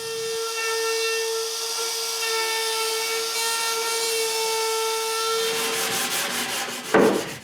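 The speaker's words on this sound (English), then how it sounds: "Then I make a little end sanding." Wooden strips being end-sanded for a cutoff storage box, a steady rubbing hiss running continuously at close range with a faint tonal whine, then a brief louder scrape and knock near the end; no talking.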